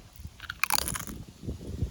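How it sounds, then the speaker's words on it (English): Someone bites and chews a pita with chicken salad up close, giving a few crisp crunches followed by softer, irregular munching sounds. "the pita and chicken salad is growing on me. I keep munching."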